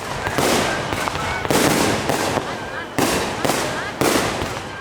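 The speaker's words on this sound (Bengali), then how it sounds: "রং বেরঙের আতসবাজি চলে দীর্ঘ সময় ধরে" Colorful fireworks go off at a crowded shrine courtyard celebration, with about four loud, crackling bursts spaced roughly a second apart over a busy background of crowd noise.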